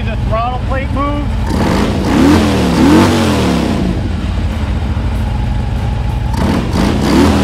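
A car engine fitted with a Trask Assault Charge high-flow intake revs repeatedly, loud and close. The pitch climbs and falls over a steady engine rumble.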